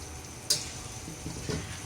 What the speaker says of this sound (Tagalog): Scramble egg.